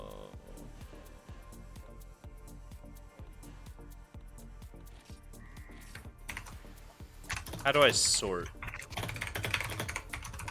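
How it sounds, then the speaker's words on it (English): Rapid, loud clicking of a computer keyboard carries on steadily under a voice, with some game interface sounds rising near the end during a hunting video game session. "Your typing is loud again."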